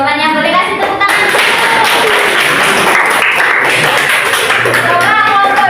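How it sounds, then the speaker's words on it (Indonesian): Applause from students in a classroom during a practice lesson: dense, loud, continuous clapping that fills the whole stretch, with some voices mixed in underneath. "Boleh kasih tepuk tangan."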